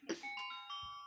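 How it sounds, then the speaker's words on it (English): A doorbell rings indoors once, a short two-tone chime with a ringing tail, faint and brief against a quiet room. "Sorry, that's my doorbell."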